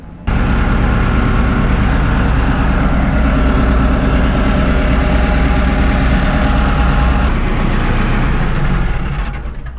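A Landini tractor sits idling during a sorghum harvest, its loud, steady diesel rumble running close and constant for nearly ten seconds before tapering slightly at the end, with no one speaking.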